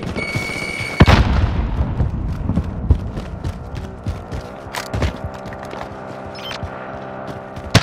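A frag grenade blows up in Call of Duty Warzone in Verdansk, a loud close boom followed by scattered gunfire cracks and clattering game effects.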